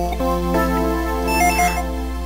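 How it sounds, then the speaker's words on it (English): A telephone rings in the Game Boy Advance game The Legacy of Goku 2, a steady electronic ringtone of stacked tones that plays loud and alone for about two seconds over a low background hum. "Oh no, the phone's ringing."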